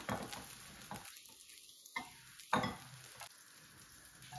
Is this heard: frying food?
yes